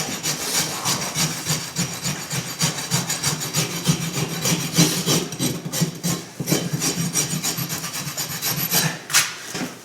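A rasp scrubs back and forth across a horse's hoof wall to roughen it, a loud, close, rhythmic run of gritty strokes that continues steadily with no talk.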